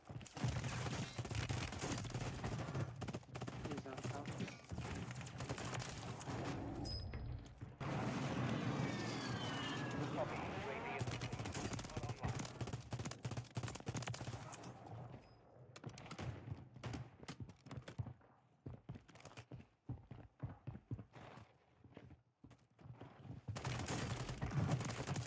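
Rapid bursts of DG-56 automatic gunfire in a video game crackle almost continuously, dense and loud with brief pauses, over a steady background of in-game battlefield noise.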